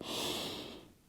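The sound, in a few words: deep breath during yoga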